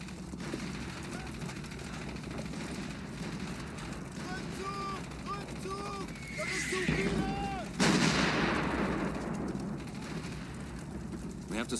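German 88 guns fire during a Company of Heroes battle at Omaha Beach, booming over a steady din of combat with a voice barking orders, followed by a heavy blast and rumbling aftermath.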